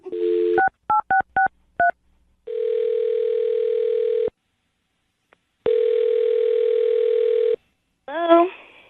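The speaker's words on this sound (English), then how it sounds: "I'm going to dial her phone number right now" A telephone keypad beeps out a quick run of dialing tones, each a short two-note chirp. Two long steady ringback tones follow, separated by a gap, and then a voice starts speaking.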